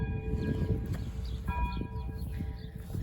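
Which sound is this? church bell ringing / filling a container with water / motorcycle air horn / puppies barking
church bell ringing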